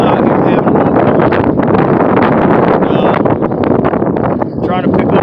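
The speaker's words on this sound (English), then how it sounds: "The wind is blowing, y'all, but we still out here having a little" Strong wind buffets the microphone on a lake shore during a crappie fishing outing, with loud continuous roaring gusts and rustling, and a voice half-buried in the noise.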